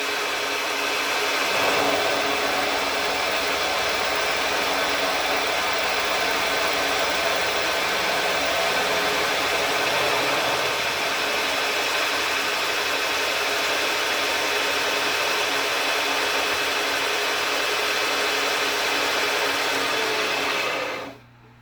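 A machine tool taking a 10 thou cut at about 1200 RPM gives a steady, loud whir with a faint tonal whine that holds unchanged for about twenty seconds, then stops abruptly.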